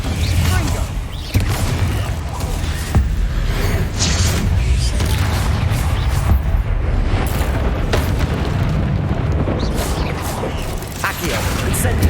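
Spell combat in Hogwarts Legacy, with Confringo, Incendio and Accio cast in quick succession. Dense booming explosions and clanking impacts pile up loud and close, almost without pause, under shouted incantations.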